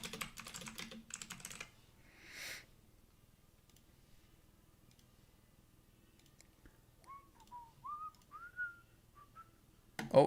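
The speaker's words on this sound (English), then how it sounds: "Oh, the whistling." Someone whistles a short rising, wavering tune of several notes near the end, faint and close, after a burst of computer keyboard typing and a brief noise at the start.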